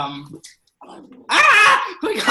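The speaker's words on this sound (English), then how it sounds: "my dog." A pet dog growls briefly after being woken indoors during a home podcast recording, a low rumble between bursts of nearby conversation.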